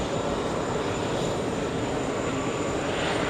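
A JetBlue airliner taxis at JFK airport, its engines a continuous broad roar heard at a steady level from nearby, with no breaks across the short stretch.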